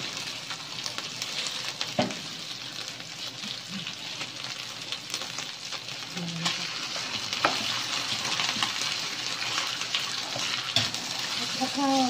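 Thai stir-fry (pad kra pao with century egg) frying steadily in a pan, a continuous close sizzle broken by scattered scraping and stirring knocks throughout.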